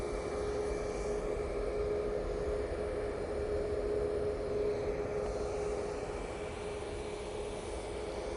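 Gulf Air airliner on final approach into Manchester Airport, a continuous distant jet drone with a steady tonal hum, even in level throughout, with no talking.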